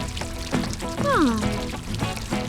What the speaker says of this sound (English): Peppa carefully waters the flowers.